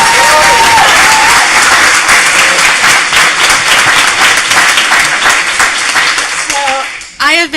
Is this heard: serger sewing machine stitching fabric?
no